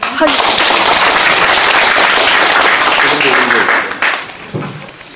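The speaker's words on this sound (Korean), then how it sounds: "이분한테 박수 크게 한번 보내요." Loud applause bursts from a gathered audience of villagers at a meeting in Gangjeong, dense and crackling for about four seconds, then thinning and fading as a voice begins to speak.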